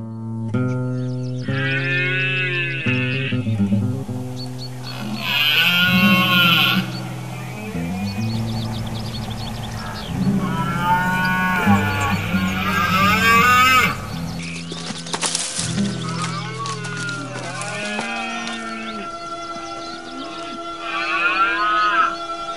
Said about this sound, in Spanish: Los machos adultos emiten unos sonidos guturales característicos, conocidos como la berrea.